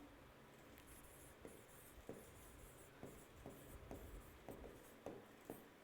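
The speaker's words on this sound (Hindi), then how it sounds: "इसको मैं यहां लिख देती हूं" Quiet scratching and tapping of a marker or chalk writing on a board in a biology lesson, with irregular short strokes and taps spread across several seconds, faint and close.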